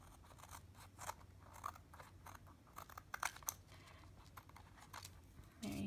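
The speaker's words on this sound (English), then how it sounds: "And I'm going to cut this excess off now." Scissors trim excess paper along the edge of a decorated notebook, producing a string of quiet, crisp snips at an irregular pace in a calm, hushed room.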